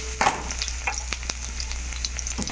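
Onions fry in a pan for a vegetarian spinach curry, a constant sizzle punctuated by irregular scrapes and clinks of stirring close by, with no voices.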